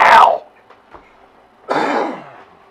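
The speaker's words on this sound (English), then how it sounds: "You're making me cough" Two harsh coughs, the second longer and raspier, set apart by a short pause, come from a man choking on dust stirred up in a workshop.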